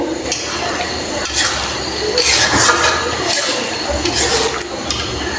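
Chickpea lentils being stirred in a cooking pot, with a continuous loud scraping and sloshing of a spoon against the metal, occasional clinks and faint sizzling underneath.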